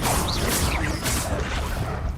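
Confringo blasting spell from a magic mod for Counter-Strike: loud whooshing bursts with crashing, smashing impacts that repeat in quick succession.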